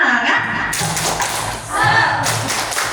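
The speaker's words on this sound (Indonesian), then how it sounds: "Saya mau nih Bapak Ibunya coba tepuk semangat dulu biar kita rileks ya" A group of teachers performs a rhythmic Indonesian spirit clap in a room, patterned claps and taps mixed with voices chanting along.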